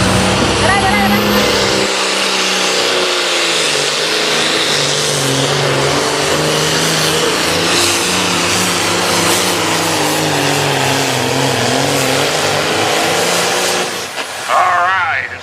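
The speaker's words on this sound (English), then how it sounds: "Brooke Ferris back up with the other nuts tractor." A pulling tractor roars at full throttle down the track at the Sandwich Fair tractor pull in Illinois, a loud sustained droning engine that holds steady for most of the stretch and then eases off near the end.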